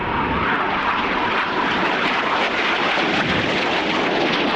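Red Arrows jets fly an aerobatic display at RIAT 2013, producing a loud, continuous, rushing jet roar that fills the whole stretch without letting up.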